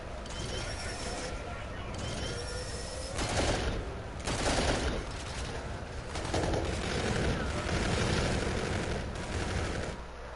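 Rifle gunfire in a video game, bursts of shots repeating steadily through the clip at moderate loudness, with game ambience and a voice speaking over it.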